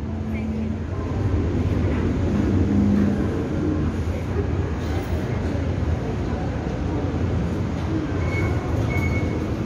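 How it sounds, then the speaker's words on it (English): Train rumbling past at a rail station in Bangkok, a steady, close, loud roar of wheels and carriages with occasional faint squeals, while people talk over the noise. "so this is a train right here."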